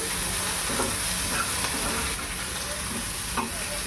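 Onions fry gently in a pan for egg malai tikka masala, making a constant low sizzle with a few scattered spatula scrapes and stirs, close and steady with no speech.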